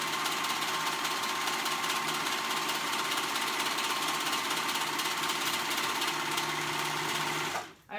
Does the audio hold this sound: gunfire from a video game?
no